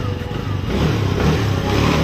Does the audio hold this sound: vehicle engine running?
yes